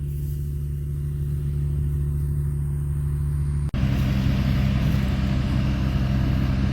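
A grain buggy engine runs steadily during a rice harvest, a loud continuous low drone with harmonics that grows rougher and fuller partway through, as if load or throttle increases, with no talking.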